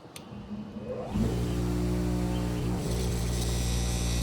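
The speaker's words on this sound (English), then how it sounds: "wheel that I'm using here on a bench buffer grinder" A bench buffer grinder fitted with a polishing wheel spins up and runs steadily, a loud continuous motor hum with harmonic whine holding after a brief start-up.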